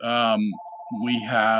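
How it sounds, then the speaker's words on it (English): A phone rings briefly in a short electronic tone burst between stretches of a man's speech, close and clearly audible over the talking. "Excuse my phone ringing."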